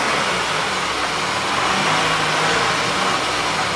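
A BMW E36 car engine drones loudly and steadily at night, a constant mid-pitched roar with slight swells in revs, close up and without voices.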